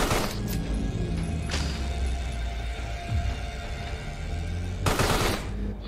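Enemies with big guns and shields in the game Carrion fire rapid gunfire, a dense mechanical rattle with several sharp bursts rising over a constant rumble.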